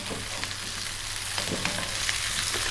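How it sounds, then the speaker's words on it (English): Vegetables for curried vegan fried rice, including celery, stir-fried in a hot pan, giving a steady close sizzle with scattered clicks and scrapes of stirring and no talk over it. "Stir frying this around."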